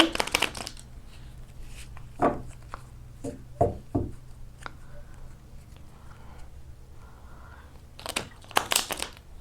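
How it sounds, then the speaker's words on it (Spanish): Crisp riffling bursts of cards being shuffled come in short clusters, with pauses of quiet rustle between them, close and fairly loud. "Vamos a barajar muy bien."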